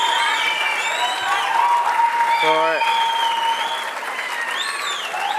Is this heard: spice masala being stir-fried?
no